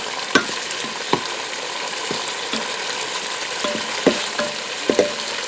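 Chicken and bok choy sizzle while stir frying in a Ninja Foodi, a steady close frying hiss broken by occasional sharp clacks of a utensil against the pot, with no talking.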